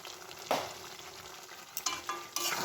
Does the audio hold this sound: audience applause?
no